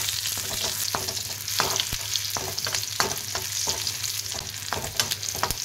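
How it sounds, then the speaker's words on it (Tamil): Mustard seeds, dried chilies and curry leaves frying in hot oil, a steady close sizzle broken by sharp popping crackles, with no talking. "எண்ணெயில் கடுகு, காஞ்ச மிளகாய், கருவேப்பிலை எல்லாம் போட்டு நல்லா வதக்கி"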